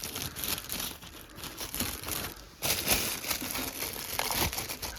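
Plastic wrapping crinkles and tears as it comes off a new Blackstone 22-inch tabletop griddle, a steady close rustle of crumpling film that grows louder partway through, with no talk.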